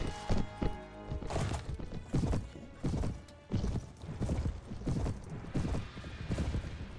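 Horse galloping in the video game Mount&Blade: Warband, with repeated heavy hoofbeats in an uneven rhythm, a whinny, and battle clatter mixed in, moderately loud.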